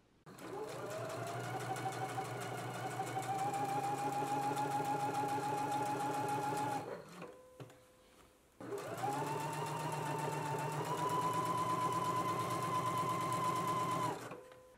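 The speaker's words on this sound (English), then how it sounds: "So I'm going to go to my sewing machine now and go ahead and stitch down this side of the zipper tape." A home sewing machine with a zipper foot stitches zipper tape onto a garment in two long continuous runs, its motor humming and needle clattering rapidly, separated by a brief pause.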